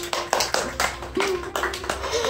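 An audience claps at an Indian Independence Day celebration held in Guadalajara, Mexico, with scattered, uneven hand claps that are fairly close, alongside a sustained background tone.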